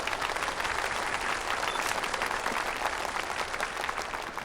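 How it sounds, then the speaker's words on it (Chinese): An audience applauding to welcome a speaker to the stage at a public talk, dense steady clapping from many hands that holds throughout without voices breaking through. "现在让我们掌声欢迎车厘子老师为大家分享。"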